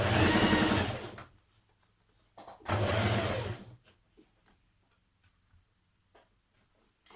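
A sewing machine stitches the neckline of a dress in two loud, close bursts of running, the second after a short pause, followed by faint ticks and handling noises.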